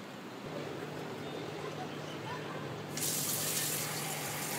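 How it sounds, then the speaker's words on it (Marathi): A kitchen tap fills a bowl with water for cooling boiled eggs. Faint room noise comes first, then the stream starts suddenly near the end as a loud, steady, close rush. "एका बाउलमध्ये नळाचं पाणी घेऊया"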